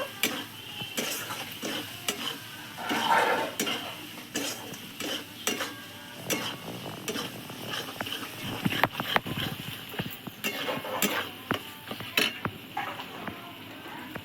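Masala with tomato sauce being sautéed in a pan, with repeated utensil scrapes and clinks against the metal over a continuous sizzle, close and busy, in irregular bursts, with no talking.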